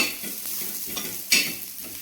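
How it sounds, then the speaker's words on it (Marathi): Onions fry in plenty of hot oil, a steady loud sizzle with occasional stirring scrapes and one sharper clatter of the spoon against the pan, close up and without voices. "कांदा फ्राय चालू आहे"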